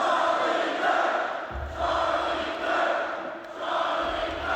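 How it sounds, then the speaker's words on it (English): Huge concert crowd at a country singer's show in Missouri chanting a name in loud, rhythmic waves of massed voices, swelling and easing in repeated pulses without a break. "led a huge crowd in a chant, shouting the conservative activist's name during his concert in Missouri"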